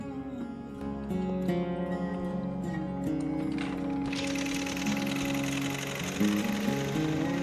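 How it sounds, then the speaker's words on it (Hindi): A sewing machine stitches khadi cloth face masks at a workshop in the Gandhi Ashram, Akbarpur, running as a steady rapid mechanical chatter with a louder, denser clatter joining partway through. "यहाँ पे मास्क का सिलाई हो रहा है।"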